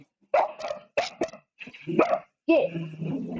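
Several dogs bark, yip and snarl in quick bursts while squabbling over food, with a voice scolding them between the outbursts, close and loud.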